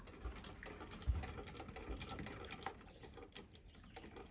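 An early-1900s antique sewing machine stitches fabric right up to the edge, giving a steady, low mechanical chatter with soft repeated knocks and a few sharper thumps, moderately close, with no talk over it.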